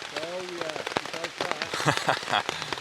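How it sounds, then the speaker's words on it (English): Steady rain pattering on a surface at a military urban warfare training village, a dense continuous patter running under a voice talking nearby. "as you can hear, it's still raining"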